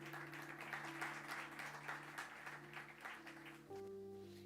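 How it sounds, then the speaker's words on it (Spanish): A church congregation gives applause to the Lord during a sermon, moderate scattered clapping over a sustained organ or keyboard tone, the clapping fading as the held chord shifts near the end. "Dele un aplauso al Señor, por favor."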